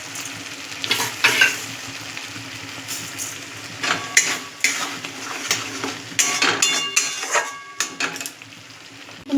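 A spoon stirs dhoka curry made with coconut and sesame in a metal pan, with clinking, scraping strokes in irregular bursts over a faint sizzle, close and loud with no talking.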